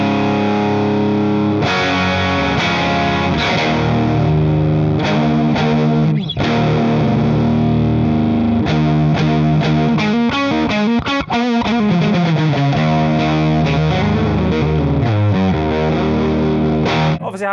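An electric guitar through a Laney LA-Studio amp plays a loud, distorted, chorus-tinged passage of sustained chords and busy riffs, running continuously and alone.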